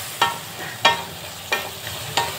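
Masala frying in oil in a kadhai for Bihari aloo dum, with a steady sizzle broken by four evenly spaced scraping stir strokes, close and loud with no voices.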